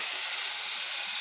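Lentils, jackfruit seeds and potatoes sauté in a hot pan, giving a steady close sizzling hiss with no pauses.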